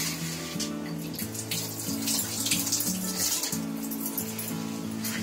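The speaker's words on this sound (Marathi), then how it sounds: "पहिला ऍपल स्वच्छ धुवून घ्यायचा" An apple is washed under a running kitchen tap, with a steady close splash of water broken by shifting tones as the fruit moves through the stream, and no voices.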